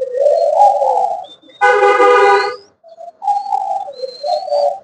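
A pair of spotted doves coo in repeated low rounded phrases, loud and close, with a brief burst of wing or cage noise in the middle and faint thin whistles above.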